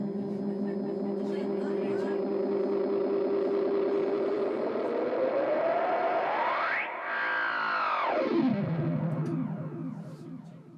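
A cheap Ashton guitar delay pedal plays a sustained, wobbling note that bends and sweeps sharply upward, then drops back down with echoing repeats. The effect is loud and continuous throughout, and a faint voice is heard alongside it.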